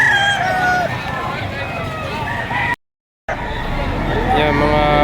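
Roosters crow repeatedly at a busy chicken market, with several calls overlapping against a steady crowd murmur and nearby chatter.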